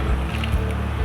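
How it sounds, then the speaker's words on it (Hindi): Potato pieces for homemade frozen fries are slipped into a pot of boiling water, giving a brief burst of bubbling and sloshing water at close range, with no talk. "अब मैं इसके अंदर आलू ऐड करती हूँ। आराम से डालें।"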